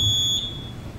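A fire suppression system control panel sounds a single thin, high electronic beep lasting about half a second, close and clear over a faint low hum.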